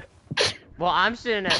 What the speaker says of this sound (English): oh, you're sneezing. Bless you.